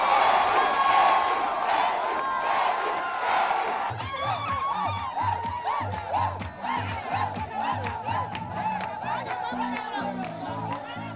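A large crowd cheers and whoops in a stadium during a public gathering with a dignitary, first a dense roar, then continued shouting and cheering over rhythmic drumming, with voices mixed throughout.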